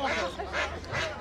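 Domestic ducks at a rural poultry market in Bangladesh give three loud, close, nasal quacking calls in a row over a faint busy background.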